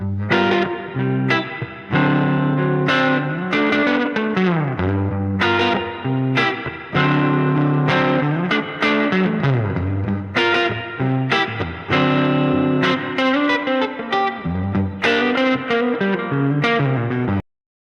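An electric guitar plays chords and single-note runs through a small Fender Vibro Champ tube amp, with a slightly gritty, reverberant tone, continuous for most of the passage.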